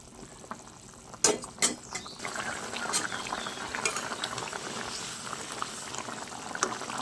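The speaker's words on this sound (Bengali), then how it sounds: "এই করতে আমি ভেজে রাখা পনিরগুলো দিয়ে দেব দিয়ে হালকা হাতে একটু নাড়াচাড়া করে নেব" Fried paneer stirred gently into bubbling curry gravy, soft wet bubbling with a few spoon knocks against the pot near the start, close and moderately quiet.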